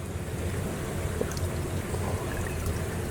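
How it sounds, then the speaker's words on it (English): Water steadily poured into a glass vase for a hydroponic amaryllis bulb, a continuous close trickle with a faint airy rush and no talk. "put enough water in here to bring the water level just below the base of the bulb"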